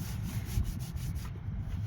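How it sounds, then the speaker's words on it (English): An angle grinder fitted with a 40 grit flap disc sands a wooden boat deck, making a continuous, gritty rubbing rasp with a dull rumbling underlay, fairly close and steady. "So the 40 grip, flap and disc, on this good old grinder."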